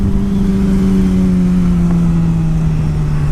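A motorcycle engine held at steady revs by a throttle lock, running continuously with a loud, even drone and a slowly sinking tone, no voices over it.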